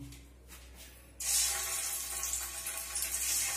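Paneer dropped into hot oil for frying, setting off a sudden loud, steady sizzle that starts after a quiet moment and continues with crackling bursts, close up.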